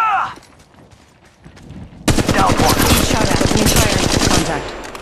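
Rapid automatic gunfire in Apex Legends Mobile: after a quiet opening with a short sound, a loud, dense burst of shots erupts and hammers on steadily for about three seconds before cutting off.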